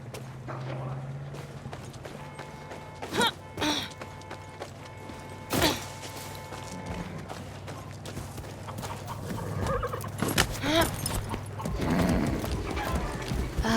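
Horse hooves clip-clopping steadily with creaking tack and mechanical clatter, a few heavier thuds, and faint voices in the background, from a horse in the video game Far Cry 6.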